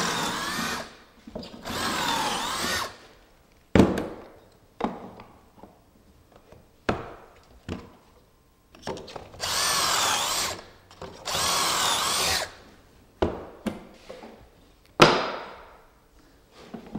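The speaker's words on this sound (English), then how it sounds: "And then I'm just going to drill a couple holes." A power drill whirs into wood in several short bursts, with knocks and clatter of the workpiece in between.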